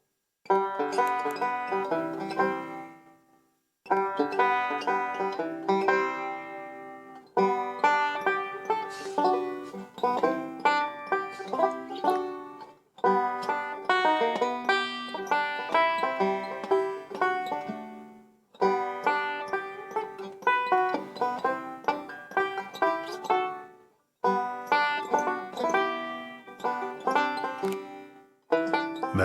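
A banjo picked in a bright, twangy melody, played alone in clear phrases separated by short pauses.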